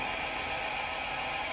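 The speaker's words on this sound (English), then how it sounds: "So I'm going to grab my blow dryer and I am going to put it on low and the cool setting." Blow dryer running on its low, cool setting to push paint across a canvas, a steady close whooshing hiss that holds unchanged throughout with no talking.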